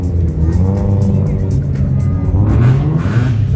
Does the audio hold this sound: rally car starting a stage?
yes